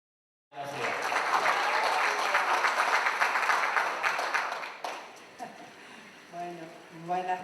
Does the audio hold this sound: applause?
yes